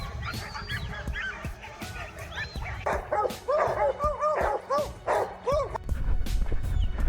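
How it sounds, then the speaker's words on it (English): A dog barks repeatedly in sharp, urgent bursts outdoors during a wild boar hunt on a small farm, with a few quicker yips and honk-like calls mixed in over rustling background noise. "the dog suddenly barked, sharper, more urgent this time"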